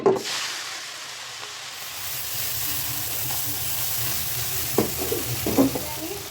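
Water from rinsing a fish-marinade bowl poured into hot oil in a wok while cooking mola fish, giving a loud burst of sizzle that settles into steady frying hiss with a few clinks of stirring toward the end.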